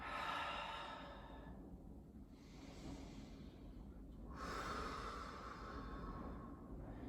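Slow, deep breathing during a power yoga flow, a few long audible inhales and exhales through the nose and mouth, close and quiet, alternating in an even rhythm.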